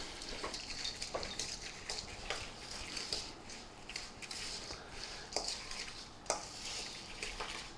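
Mincemeat with rum being stirred in a bowl, a spoon scraping and clinking against the sides in a steady series of soft, wet strokes, close by with no talking.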